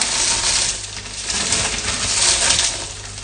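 Home-made dried shrimp dropped into a zip-lock bag, a dense, loud stream of small dry rattling and clattering impacts that continues without pause and without speech.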